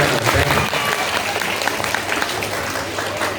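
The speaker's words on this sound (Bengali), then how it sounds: "তাহলে আমরা সবাই একটা বড় করে হাততালি দিয়ে" Audience clapping at a presentation ceremony, a dense, steady wash of many hands applauding together throughout, loud and close, with faint crowd murmur underneath.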